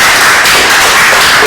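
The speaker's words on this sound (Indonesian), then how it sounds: "Tepuk tangan kepada Anggi" Classroom applause for a student named Anggi, a steady dense patter of many hands clapping together, loud and continuous throughout with no voices over it.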